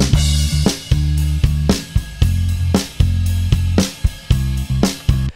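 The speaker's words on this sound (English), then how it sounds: "And it's playing alongside some drums" Bass guitar line played together with a drum kit, a steady beat of kick hits under sustained low bass notes in a mixed music track, loud and close with no talking.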